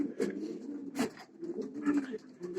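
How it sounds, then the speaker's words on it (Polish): Racing pigeons, widowed cock birds, coo softly inside a loft in a low continuous murmur, with a few brief sharper sounds rising over the steady cooing. "Są to gołębie lotowe, tu są samczyki wdowców, wdowce"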